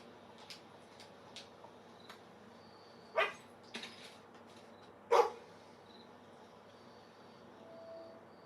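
In a video game, a dog gives two short barks a couple of seconds apart, faint against a quiet background of light ticks and clicks.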